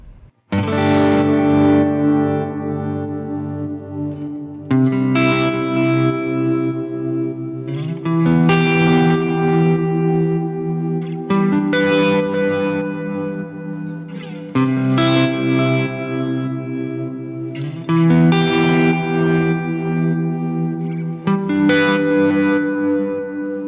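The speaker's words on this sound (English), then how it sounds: "you can see the tremolo being turned on" An electric guitar plays repeated chords with a pulsing, wavering tremolo effect and some echo from a Line 6 HX Stomp, loud and continuous with no talking.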